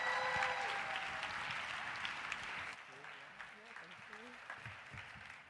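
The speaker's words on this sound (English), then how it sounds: "Give them a round of applause as they come." An audience's applause fades out over the first few seconds, and then a voice speaks over the quieter room.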